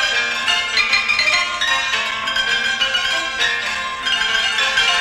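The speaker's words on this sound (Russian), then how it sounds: "Нет, это был звук шарманки." A barrel organ plays a steady, bright mechanical tune, loud and continuous with no voices over it.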